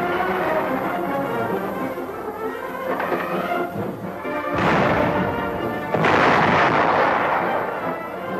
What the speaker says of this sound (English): Firepower tests of the 3-inch gun